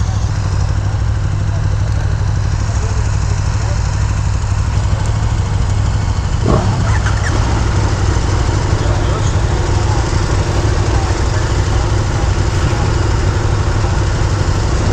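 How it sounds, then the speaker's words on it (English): Engine of a 2018 KTM 1090 Adventure R motorcycle idling, a steady loud low rumble throughout with constant wind-like noise over it. "KTM 1090R adventure bike. First ride, all that good stuff."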